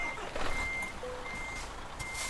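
A truck's reversing alarm in Euro Truck Simulator 2 sounds in a steady run of evenly spaced beeps over low engine rumble and road ambience.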